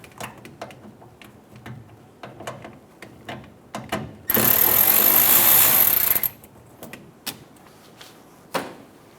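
An 8mm socket on a ratchet loosens the fuel filler neck hose clamp of a 2014-2018 Chevrolet Silverado 1500, a loud two-second burst of ratcheting amid scattered faint clicks and handling taps, with no talk.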